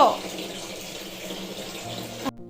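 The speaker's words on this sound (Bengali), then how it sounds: "তারপর আমি ওকে ভালো করে আবার হাত পা ধুয়ে দিই" Tap water runs steadily into a sink while a small child's hands and feet are washed, a close continuous splashing flow that stops abruptly near the end.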